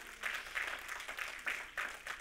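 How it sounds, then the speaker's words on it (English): A church congregation gives a clap offering during a sermon, a moderate patter of clapping in uneven bursts that swell and fade across a couple of seconds. "give the Lord a big clap offering"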